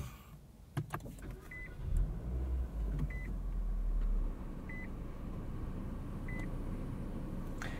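A 2023 Nissan Versa SR with a 1.6-liter four-cylinder starts up, a quick crank and rumble settling into a low steady idle, with a chime beeping at regular intervals inside the cabin.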